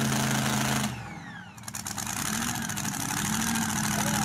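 A blown alcohol dirt dragster's engine at a mud truck shootout idles with a loud, rough, deep rumble that briefly drops and falls away, then picks back up into a steady, pulsing throb.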